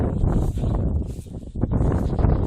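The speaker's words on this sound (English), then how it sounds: "At least I found some wind. Some precious wind." Wind gusts sweep across open grassland in a survival video game, a rushing, rustling blow that swells and fades in waves, loud and close.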